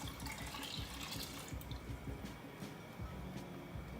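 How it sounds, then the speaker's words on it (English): Water runs into a cooking pan to cover saltfish for boiling, a steady splashing pour with faint drips, close by, with no speech. "put some water in the pan,"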